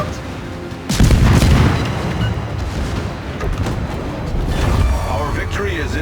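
Heavy torpedo explosions in the naval combat game World of Warships, a sudden loud boom near the one-second mark followed by rumbling blasts and lingering low rumble, with a voice talking over the game sounds.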